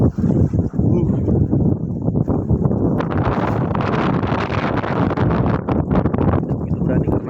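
Strong wind on the narrow summit of Mount Kerinci, roaring and buffeting the microphone loudly and continuously, gusting harder partway through, with people talking underneath.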